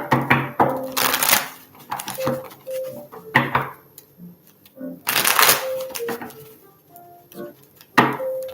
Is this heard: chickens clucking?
no